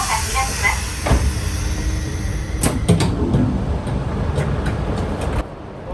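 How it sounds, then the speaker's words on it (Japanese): A train pulling into Shin-Aomori station, with broadband rolling rumble, a few clacks and faint high squeals as it slows, while a voice talks over the noise. "さあ、列車は間もなく新青森駅に到着します。"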